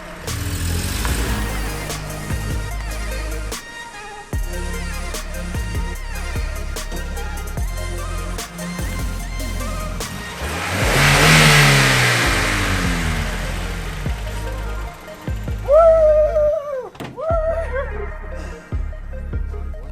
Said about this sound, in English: you can hit the throttle and it'll get going, and everything's working really, really good